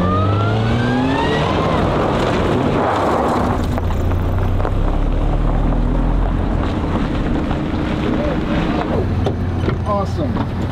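A rally car turns sharply at full throttle in evasive-maneuver training. Its engine roars loud and close the whole time, mixed with heavy wind buffeting on the microphone.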